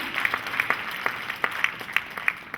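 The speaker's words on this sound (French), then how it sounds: "Ça mérite des applaudissements pour vous-même." Applause for women entrepreneurs at an awards evening in Côte d'Ivoire, a steady wash of crowd clapping with scattered sharper claps standing out, moderately distant and continuous throughout.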